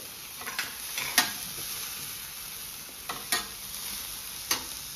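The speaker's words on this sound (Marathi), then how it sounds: "एक 5 मिनिटं फक्त बटरमध्ये आपल्याला परतून घ्यायचे।" Egg roll filling of garlic greens, chili powder, coriander and tomato sautéing in butter, a faint steady sizzle punctuated by a few sharp spatula stirs spaced a second or two apart.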